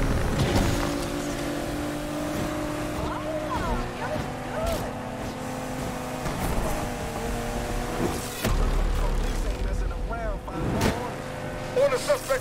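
Engine note of a car pulling away and accelerating hard in the racing game Need for Speed Unbound, a steady revving drone with rising harmonics, under game music and someone talking over it.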